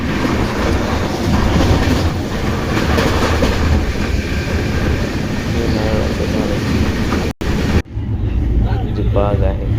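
A passing train heard from on board or trackside on a South India trip, a steady loud rumble with rhythmic clatter filling the whole stretch, briefly cut near the end before resuming.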